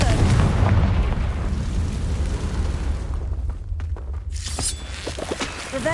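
Confringo spell explosion in a video game, a deep booming blast at the start that rumbles and fades, followed by scattered crackles and a brighter burst of debris-like noise.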